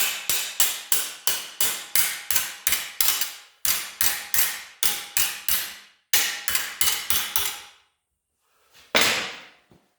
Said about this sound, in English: I'm just going to dolly it around and go back and fit it